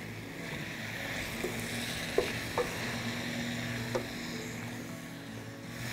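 Potatoes in a frying pan, cooking for a veggie breakfast hash, sizzle with a steady crackling hiss, broken by a few soft knocks and scrapes as they are pressed down.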